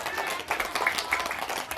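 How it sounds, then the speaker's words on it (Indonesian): Children and guests clap briefly at a child's birthday party held at a waterpark pool with a unicorn clown, giving a short burst of scattered clapping mixed with background chatter. "Tepuk tangan sekali lagi buat Ara."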